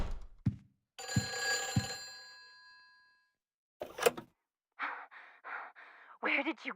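Telephone ringing inside the video game Silent Hill 4, a bright electronic ring in short repeated bursts with pauses between them, heard alone and fairly clear after some breathing and rustling.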